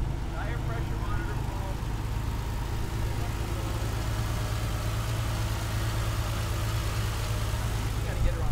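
A freshly started car engine idles with a steady low rumble and a constant hum, running evenly under people talking nearby.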